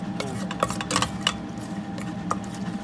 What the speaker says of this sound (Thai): ผัดจนหอมแล้วก็